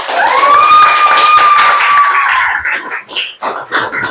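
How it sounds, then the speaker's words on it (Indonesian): A classroom of students applauds a winning group during a quiz lesson, a dense, loud burst of clapping for about two and a half seconds that thins into scattered claps and noise, with a faint whistle-like tone above it. "Tepuk tangan dulu."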